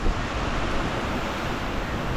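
Strong wind from Hurricane Francine blows steadily and loudly against the microphone, a dense broadband roar with a low rumble and no voices.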